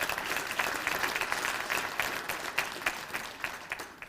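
Audience at a college State of the College address applauds, a moderately distant, steady patter of many hands clapping with no talking.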